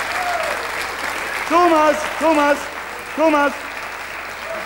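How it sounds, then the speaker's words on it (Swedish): Applause from a studio audience on a Swedish television show, a broad wash of clapping running throughout, with a voice speaking in short bursts over it. "vi ger dem en riktig applåd"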